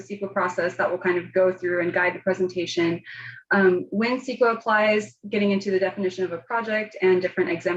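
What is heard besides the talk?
None of the usual background noises is heard.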